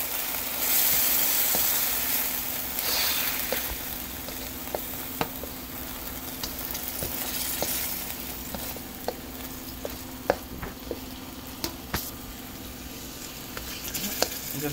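Sugar and tamarind paste sautéing in a pan for Thai three-flavor fish, a soft continuous sizzle with scattered light ticks and stirring scrapes, fairly quiet and without talk.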